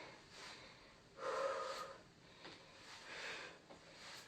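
Heavy breathing during a bodyweight workout, with a few forceful, close exhalations and snorting breaths in an irregular rhythm, quiet overall.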